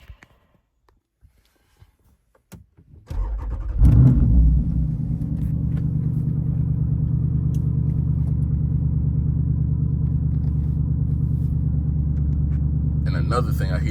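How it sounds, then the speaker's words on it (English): An SRT Jeep starts up and settles into a steady, deep engine rumble while driving, loud and continuous for about ten seconds after a few quiet knocks and handling noises at the start. "And I'm gonna let y'all see what the car driving like."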